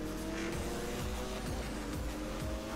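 A short, stubby car racing in the video game Need for Speed: Most Wanted, its engine droning steadily with repeated gear-shift revs and tire squeals, loud and with no talking.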